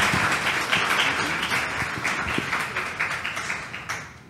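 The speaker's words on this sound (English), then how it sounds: "Let's give them a round of applause." Audience applause following a panel discussion introduction, a steady dense wash of many hands clapping throughout, fairly loud and continuous with no talking over it.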